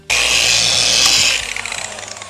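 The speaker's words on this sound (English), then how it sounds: "this is a 21mm polisher, so this is a heavier cutting polisher" A heavy 21mm cutting polisher working on car paint gives a loud, steady high whirring drone that holds for about a second and a half, then eases off into a softer, wavering spin-down, with no talking.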